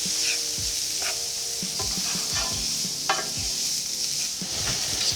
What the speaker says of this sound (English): I just want to fry the cauliflower just for a minute